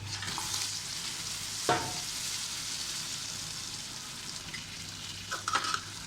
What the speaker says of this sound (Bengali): এরপরে আমি যেহেতু মাছটা কষিয়ে নেব, মাছটা আমি দিয়ে দেব